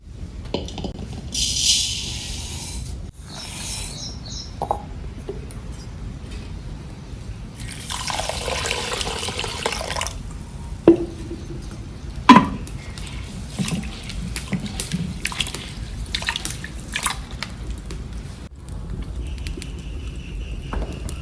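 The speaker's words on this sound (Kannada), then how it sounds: "ರೈಸ್ನ ತೊಳೆದು ಹಾಕೋಣ." Rice being rinsed in water in a home kitchen before cooking: splashing and pouring bursts, strongest in the middle, with quieter handling sounds and faint birds in the background, no talking.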